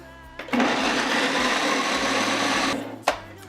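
A food processor cuts shortening into flour for pie crust. Its loud, steady whirring drone runs near and alone for about two seconds, then stops with a sharp click just after.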